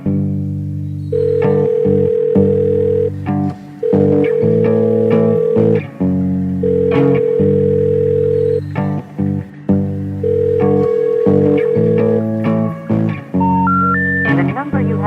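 A telephone rings in a repeating pattern of bright, steady tones. Each ring is loud and close, separated by brief gaps, and a short rising sequence of beeps follows near the end.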